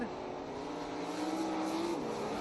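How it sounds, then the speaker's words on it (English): Sprint car engines rev and drone steadily before a race at an oval track, a continuous loud roar with a shifting pitch band, and an announcer talking over it. "Cars clean out the engine."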